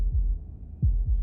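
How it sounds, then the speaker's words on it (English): A heartbeat in the video game Slay the Princess, low deep thumps in a double-beat rhythm, close and heavy against near silence. "That was the sound of a heartbeat,"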